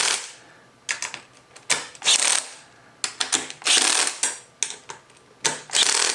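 A hand ratchet tightens the four fender eliminator bolts on a 2017+ Kawasaki Z900, giving close, loud bursts of rapid clicking pawl strokes separated by brief pauses, with no talk.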